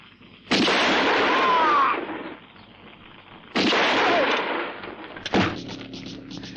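Gunfire in a dubbed action film scene: two long, booming shots with rolling echo and tails, separated by a quiet gap, followed by a sharper third blast near the end.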